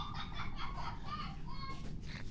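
A chicken clucks in short, repeated bursts close by, with steady background noise underneath and no one speaking.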